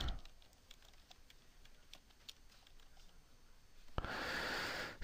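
Light typing on a computer keyboard while entering a text title in video editing software, with faint, scattered key clicks that are quiet and close, then a sudden burst of hiss near the end.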